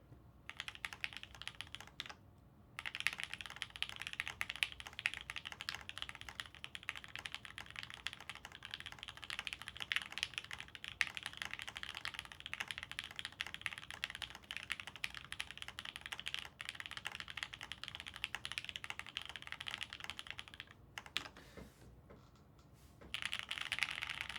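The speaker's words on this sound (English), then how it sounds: "I'm gonna act like I'm typing, not during a typing test." Steady, rapid clacking of keys on a mechanical keyboard continues for a long stretch, close and even, with brief pauses near the start and end.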